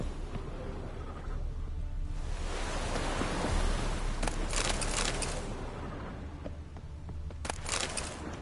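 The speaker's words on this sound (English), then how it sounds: "Looks like rain." Steady, hissing rain pours in The Witcher 3: Wild Hunt, a dense, even wash with a few brighter splatter bursts and no speech.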